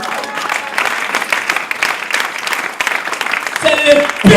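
A church congregation bursts into sustained applause, dense clapping and crowd noise filling the space, with a voice breaking through near the end.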